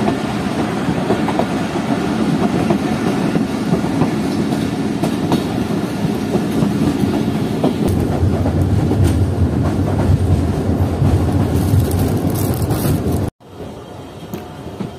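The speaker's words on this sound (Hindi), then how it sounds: "हमारी 40 डाउन जाफर एक्सप्रेस अप्रोच कर रही है हबीबकोट जंक्शन रेलवे स्टेशन पर" Jaffer Express passenger train running on rails in winter, a loud continuous rumble with clickety-clack of wheels over joints from inside the coach, ending in a sudden drop to a quieter hum.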